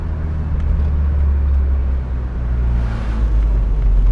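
A Volkswagen engine from the 80s, running rich, drones with a deep steady rumble while the car drives, low and loud throughout with slight swells in intensity and no talking.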